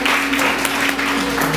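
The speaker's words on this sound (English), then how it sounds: "Let's give the Lord a clap of praise." A church congregation claps in praise, a brief, loud, continuous burst of many hands with a low hum underneath.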